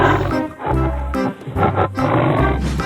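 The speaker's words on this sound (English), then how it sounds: "Tiger." A tiger roars loudly and close by, several deep, rough roars in quick succession with short breaks between them and no other sound.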